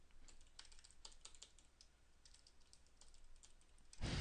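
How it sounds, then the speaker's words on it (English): Rapid typing on a computer keyboard, a quick, fairly quiet run of close key clicks in an irregular rhythm, ending with a short louder rustle. "finish your typing and then talk, Jeremy."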